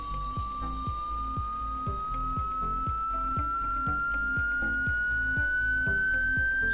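A pure sine test tone near 1000 Hz holds steady and climbs slowly in pitch, playing alone over a soft rhythmic music bed with regular low thumps.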